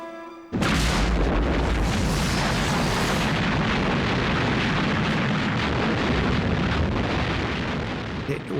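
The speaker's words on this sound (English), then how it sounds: "It was such an enormous barrage." Massed artillery barrage at El Alamein: a continuous, loud, rumbling roar of guns firing without pause, dense low thunder sustained for several seconds after an abrupt start.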